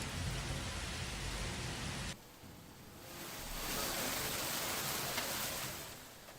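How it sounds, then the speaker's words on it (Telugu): Heavy hailstorm rain falling over farmland, a dense steady hiss and patter that drops briefly then swells again, loud and continuous with no voices. "ఇక వడగళ్ల వానలు ఎక్కువగా కురిశాయి."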